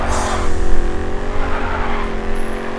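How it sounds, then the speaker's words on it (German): A car drifting in the racing video game Grid 2, loud continuous tire squeal over a steady roaring engine, close and unbroken for a few seconds with no speech. "Souveräner Drift"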